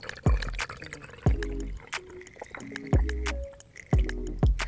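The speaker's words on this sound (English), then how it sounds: "I'm pouring the water back into the original container just so I could transport it more" Water poured back into its original container during a chemistry competition event, heard as a series of about five sloshing pours with splashy drips, each a short burst with pauses between, close and clear with no talking.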